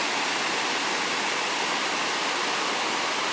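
A waterfall at an outdoor plein air painting spot roars steadily and close, a dense unbroken rush of falling water with no voices.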